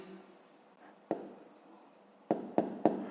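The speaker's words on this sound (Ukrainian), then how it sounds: "Давайте тут запишу, пишемо відповідь." Chalk on a classroom board for a fifth-grade maths answer: a short scratchy stroke, a pause, then three quick sharp taps and strokes, close and clear with no voices.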